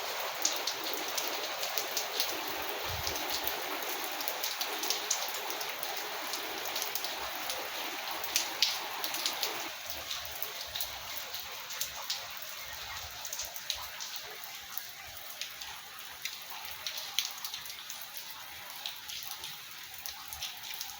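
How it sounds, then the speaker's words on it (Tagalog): Hail falling in Riyadh, a dense, continuous patter of small ice pellets striking surfaces, steady and moderately loud for the whole stretch, easing slightly partway through. "konting minuto lang po ang pag-ulan ng yelo dito sa Riyadh"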